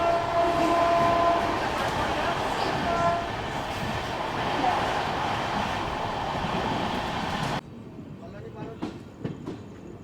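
Passenger train 13115 Sealdah–Jalpaiguri Road heard from on board while moving, a steady loud rumble and rattle of the carriages that drops away sharply near the end, leaving quieter clatter and a few faint voices.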